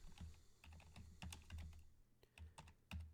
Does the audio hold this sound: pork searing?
no